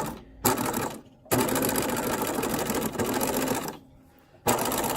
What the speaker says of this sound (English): I'm just going to stitch along the fold, one toe off, meaning 1/8 inch, all the way to the end